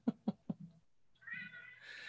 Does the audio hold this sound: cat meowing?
yes